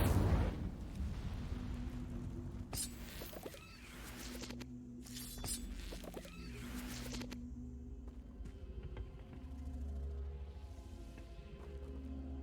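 A fire spell cast in the wizarding game Hogwarts Legacy bursts out as a loud roaring whoosh, with several flaring crackles over a steady game hum and music.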